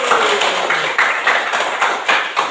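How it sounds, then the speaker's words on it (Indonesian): A classroom of schoolchildren claps together during a maths lesson, a dense, loud burst of hand claps with rhythmic surges roughly every half second, filling the room without talk. "Tepuk tangan dulu"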